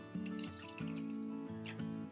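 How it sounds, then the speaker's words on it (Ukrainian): Cold, icy water pours into a deep container in a few uneven tonal bursts, close and fairly quiet with no talking. "Одну з них ми заливаємо холодну крижану воду"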